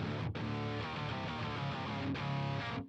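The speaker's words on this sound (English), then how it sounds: "I add a little bit of the up octave, which if you boost it sounds like this" A loud, buzzy electric guitar tone with a synthetic, high octave effect plays sustained notes, broken by two brief gaps.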